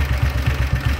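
A 1939 BSA C10 250cc motorcycle engine runs after a hot start, a steady close low thumping idle with even rhythmic firing pulses, loud and alone.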